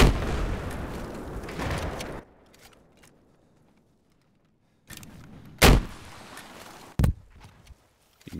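Gunfire in the video game Battlefield 4 on the Zavod map: loud bursts of shots at the start, then near silence, followed by a few sharp, isolated blasts.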